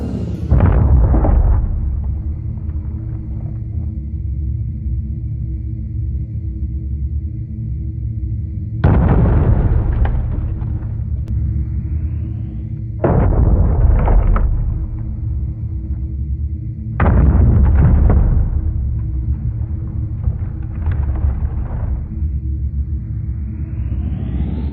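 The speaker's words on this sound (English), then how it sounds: "it's time to blow Santa into smithereens" Sodium-filled Christmas baubles blow apart a Santa Claus figure outdoors: several sharp, heavy blasts spaced seconds apart, each with a deep rumbling tail, and quiet lingering hiss between them.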